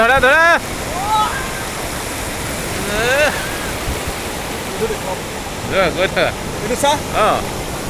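Sea waves wash against the shore during evening rain, a continuous broadband rush of surf and rainfall, with people's voices rising over it at times.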